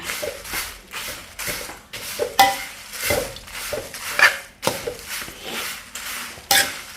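Food is stirred in a cooking pan with a spoon, making repeated close scraping and clinking strokes against the metal in an uneven rhythm, with no talking.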